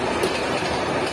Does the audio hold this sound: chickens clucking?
no